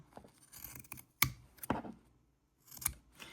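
Scissors snip the corners off fabric drink coasters sewn from 5-inch squares, giving a few crisp, close cutting clicks spread over a few seconds against quiet handling.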